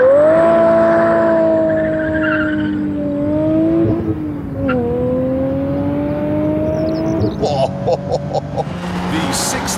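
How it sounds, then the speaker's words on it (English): Aston Martin DB7 with a 6-litre V12 engine accelerating hard, a loud, rising engine note that climbs through gears with brief shift dips, ending in faster rough revving near the car. "The 6-litre V12 is more powerful than you get in a normal DB7"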